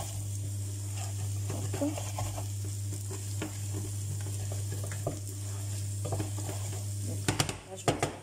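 Beaten eggs sizzling in a wok for fried rice with meat and vegetables, a steady crackling fry with intermittent scraping stirs, under a constant electrical hum and occasional French speech.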